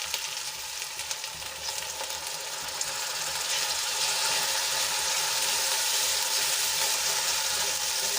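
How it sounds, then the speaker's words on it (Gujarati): Ginger, garlic, green chillies and tomato sauté in a hot pan for a sandwich filling, giving a steady, dense sizzle and frying hiss throughout with no talking. "આદુ લસણ અને મરચાં થોડાક સંતળાઈ જાય એટલે એમાં આપણે ટમેટા એડ કરી દઈશું"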